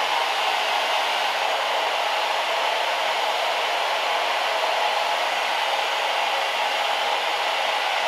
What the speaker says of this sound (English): All right, blow dryer time.